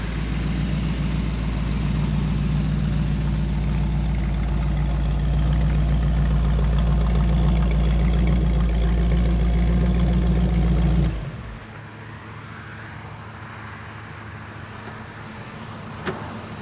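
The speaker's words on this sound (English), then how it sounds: "It's an Essex pickup." An old Essex pickup truck engine idles with a loud, steady low rumble for about eleven seconds, then cuts out abruptly, leaving quiet background and a single small knock near the end.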